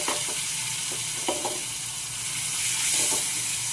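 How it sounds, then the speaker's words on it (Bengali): Grated papaya frying in hot ghee in a pan, a loud continuous sizzle with a few soft stirring scrapes, close and steady, no one talking. "এবার এই পেঁপেটা এর মধ্যে দিয়ে দেবো।"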